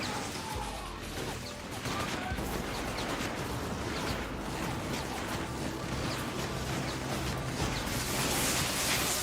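A rocket explosion in the video game Infamous 2, a dense crashing blast of noise that fills the whole stretch, loud and sustained with chaotic debris-like crackle throughout.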